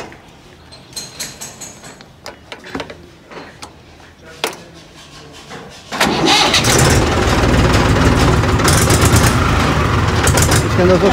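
Scattered clicks and knocks give way to a Mahindra 265 DI XP Plus or 275 DI XP Plus tractor engine starting up, then a loud, steady rumbling idle that continues to the end.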